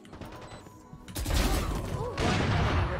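Gunfire in the video game Valorant: loud, dense bursts of shots crack out in rapid succession, a short pause, then another heavy volley, with game sounds around them.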